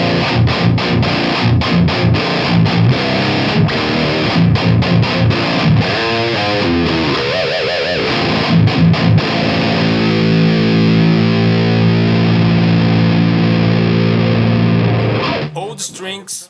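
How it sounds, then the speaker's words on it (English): A heavily distorted electric guitar with passive pickups, played through a Metallica- and Anthrax-style thrash tone, chugs loud palm-muted riffs and then lets sustained power chords ring, ending with a short burst of noise. "Let's swap the guitar a little bit and see how it sounds with passive pickups."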